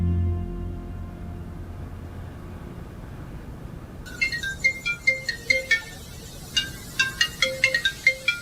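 A phone ringtone plays a bright, repeating electronic melody over a steady low hum, starting partway in and continuing to the end.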